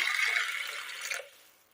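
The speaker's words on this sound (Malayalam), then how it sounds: "വേകുവാൻ ആവശ്യമായ വെള്ളം," Water splashes steadily from a pour into a pressure cooker holding soaked horse gram for a Kerala recipe; the close, hissing flow lasts about a second before cutting off into quiet.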